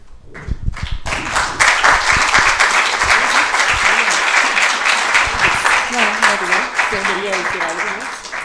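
Audience applause after a talk at a Latin American political ecology congress plenary swells quickly into dense, sustained clapping from a sizeable crowd, with a voice speaking over it near the end.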